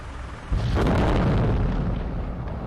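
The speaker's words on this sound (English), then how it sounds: "resulting in a massive explosion." An FPV drone strike sets off a massive explosion on a TOS-1 thermobaric launcher: a sudden, loud blast followed by a sustained, rolling roar and rumble that fades only slightly.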